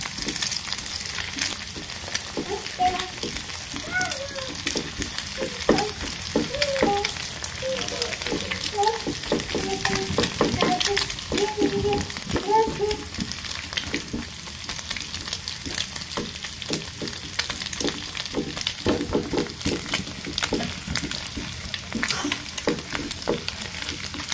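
Egg with spices and chopped snake gourd fries and sizzles in a pan, with a steady hiss and repeated scraping stirs throughout and occasional speech underneath.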